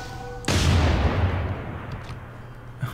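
Cannon fire against city walls in the strategy game Civilization VI: one loud, booming blast with a long rumbling decay, followed by a faint later thud, no talking.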